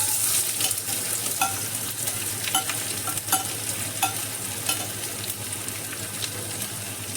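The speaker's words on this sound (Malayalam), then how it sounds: "വെളിച്ചെണ്ണ ചൂടായി വരുമ്പോഴത്തേക്ക് അതിലേക്ക് രണ്ട് മീഡിയം ടൈപ്പ് സവാള സ്ലൈസ് ചെയ്തത്" Sliced onions fry in hot coconut oil with a steady close sizzle, broken by the scrape of stirring and a few soft clinks, with no voices.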